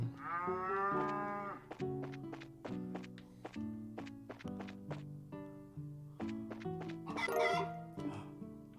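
A cow moos in the video game The Legend of Heroes: Trails in the Sky, one long lowing call at the start, heard over steady game music with rhythmic notes throughout.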